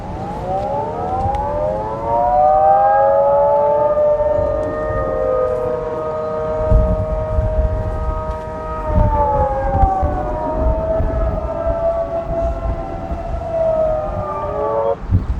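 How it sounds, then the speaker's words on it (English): A loud, wailing tsunami warning siren in Crescent City, California, rising and falling in long sustained tones, with a distant outdoor hum beneath it. "they played the tsunami siren"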